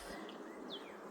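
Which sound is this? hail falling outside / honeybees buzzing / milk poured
honeybees buzzing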